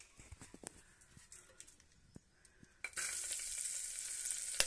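Green chilies hit hot coconut oil in a pressure cooker, bursting into a loud, steady sizzle midway after scattered clicks and scrapes, then crackling on continuously.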